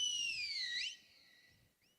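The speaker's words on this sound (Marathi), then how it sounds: "शिट्टीचा आवाज" A single sharp whistle blast at a village cricket tournament match, loud and clear for nearly a second with a falling pitch, followed by a faint brief chirp.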